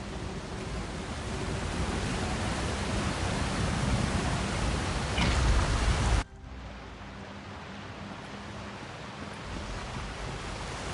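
A waterfall in The Elder Scrolls Online (Gold Road, PlayStation 5) pours as a loud, steady rushing roar for about six seconds. It then cuts abruptly to a quieter, softer ambient wash. No one speaks.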